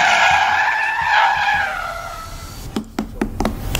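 Porsche tires squealing and skidding as the wheels spin at the Leipzig factory circuit, a loud sustained screech that fades out, followed by several sharp bursty bangs.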